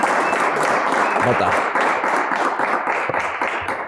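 Audience applause at an Ethiopian book launch event, a dense steady wash of clapping that fades slightly toward the end, with a voice speaking briefly over it.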